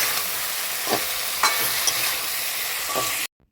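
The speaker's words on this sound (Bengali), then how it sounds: "করলা আর কাঁকরোল এখন দিয়ে দিচ্ছি, পোস্তের সঙ্গে মিশিয়ে দেব।" Bitter gourd and pointed gourd are stirred with poppy seed paste in a hot pan, giving a continuous loud sizzle with a few scraping spoon strokes, close up, ending in abrupt silence.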